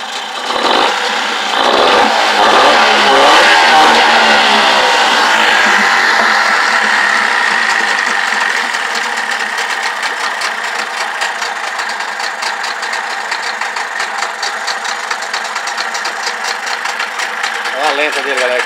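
An outboard boat motor sputters to life with a loud burst, then settles into a steady, close-up running drone.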